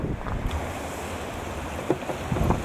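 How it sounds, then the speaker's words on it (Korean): A mountain valley stream in snowy Juwangsan National Park in winter flows with a soft, constant rushing wash. It is quiet and distant-sounding, with a few faint splashes and light wind noise on the microphone. "차분하게 흐르는 계곡 물소리를 들으며 용축 폭포를 향하는 여정."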